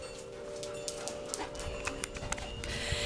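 A puppy dog panting in quick, rhythmic breaths close by, soft and steady over a quiet background.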